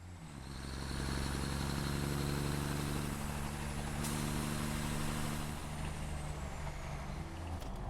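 A vehicle drives in the video game Satisfactory, its heavy engine rumbling loudly and continuously like a truck, with a brief hissing burst midway and the drone easing off at the end.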